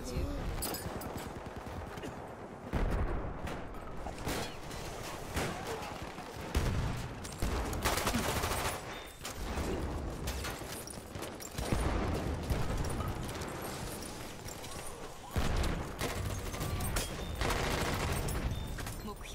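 Steady automatic gunfire in the World War I shooter Battlefield 1 at Fort de Vaux, dense rattling volleys and explosions filling the whole stretch, with chatter between players running underneath.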